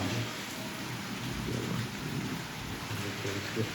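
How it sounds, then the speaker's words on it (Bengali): Steady rain patters continuously on outdoor surfaces, with a low rumbling swell midway that suggests distant thunder, with no talking. "ওখানে গুঁড়ো গুঁড়ো বৃষ্টি হচ্ছে"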